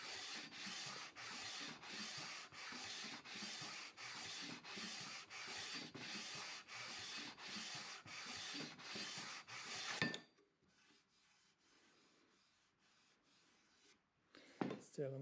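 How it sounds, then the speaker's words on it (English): A guitar fretboard is sanded to level a high spot, with rhythmic back-and-forth rubbing strokes, steady and close for about ten seconds, then quiet handling and a brief knock. "Either way, we're going to have to sand it out."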